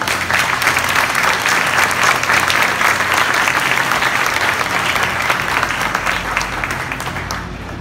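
A crowd applauds at a school breakfast room inauguration at Miguel Hidalgo school in ejido Galaneño, with dense, loud, sustained clapping that eases slightly near the end.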